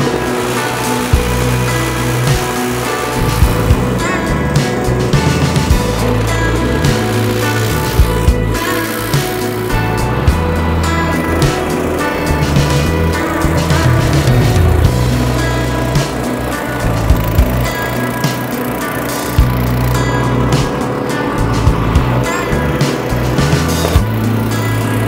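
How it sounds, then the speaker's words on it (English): A BCS two-wheel tractor snow thrower clearing snow in a market garden beside a greenhouse, its engine a steady loud drone with rattling mechanical noise throughout, no talk over it. "So once I'm ready, I'm gonna put it in gear,"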